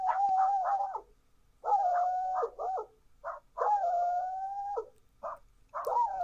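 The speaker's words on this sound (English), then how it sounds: "is barking because it saw a dog back here" A dog barks and howls in drawn-out, wavering yowls broken by short yips, coming in several loud bursts with brief pauses between them, with no talking.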